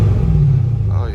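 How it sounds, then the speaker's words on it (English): Car engine at a Copart salvage auction yard in Houston giving a brief rev, a close, loud low rumble lasting about a second. "Let me give it a little rev."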